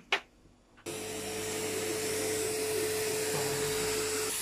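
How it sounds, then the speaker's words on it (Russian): A vacuum cleaner switches on after a brief quiet moment and runs with a steady, loud drone while cleaning out a disassembled laptop. "смотрите, что мы делаем пылесосим, разобрали все"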